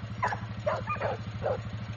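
A five-month-old APBT pit bull puppy lets out several short, high yips at a kennel, fairly close, over a steady low hum.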